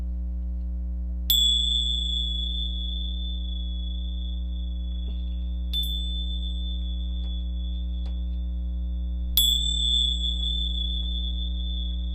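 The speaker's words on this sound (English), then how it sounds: "I will go ahead and use these bells 3 times." Three rings of a bell, each a bright sharp strike that fades slowly and is spaced a few seconds apart, over a steady low hum with no speech.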